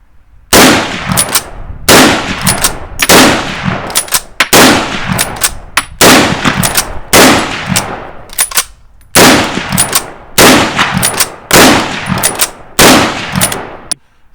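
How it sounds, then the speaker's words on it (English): Browning Maral straight-pull rifle firing ten rounds of .30-06 outdoors, loud sharp cracks spaced about a second apart, each followed by a brief ringing decay. "let's fire a few shots just for the crack"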